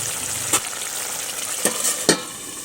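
Small kachki fish curry simmering in a pan with a little water, a continuous close bubbling sizzle broken by a few sharp scraping stirs, no talking.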